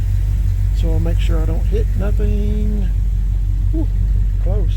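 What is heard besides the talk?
1978 Chevy C10 truck engine running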